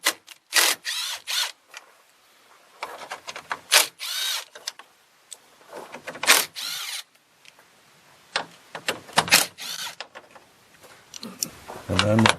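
A power driver removes 10mm bolts from behind the grille of a 2011–2016 Ford F-250 in short whirring bursts of varying length, with pauses, clicks and rattles between them, and a voice talks intermittently.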